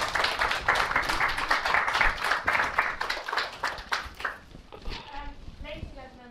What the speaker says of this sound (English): please join with me once again in applauding Margaret Mwaniki.